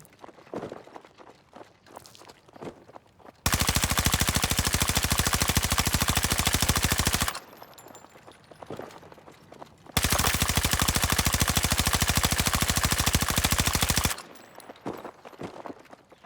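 Automatic gunfire from a gun in a video game, two sustained rapid bursts of about four seconds each, loud and dense, with quieter clicks and movement sounds between them.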